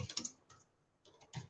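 Computer keyboard keys clatter in two short bursts of quick typing, fairly close and clear, separated by a brief quiet pause, with no talking.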